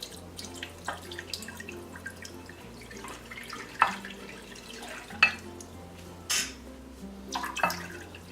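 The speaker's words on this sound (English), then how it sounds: "we're going to be filling it with water about halfway to each of the ramekin." Water is poured into a baking dish around ramekins of pumpkin bread pudding, giving soft trickling and dripping with a few louder splashy bursts, fairly quiet and close in a kitchen.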